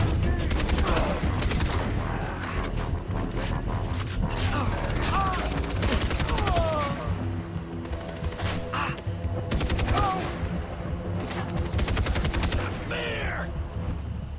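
Rapid gunfire crackles through the trees in the Far Cry 3 video game, dense automatic bursts repeating across the whole stretch with mechanical clicks and a short whistling tone in between.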